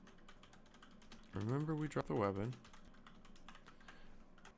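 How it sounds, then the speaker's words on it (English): Computer keyboard typing during a game development session in Unity, soft rapid key clicks scattered throughout at low volume, with a voice talking briefly in the middle. "What am I typing?"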